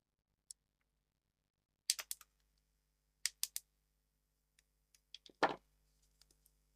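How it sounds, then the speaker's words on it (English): Small cutters snip excess component leads on a guitar overdrive pedal circuit board, giving sharp, isolated clicks in a quiet room, some single and some in quick pairs, with one louder snap near the end. "If we just snip off all the excess there."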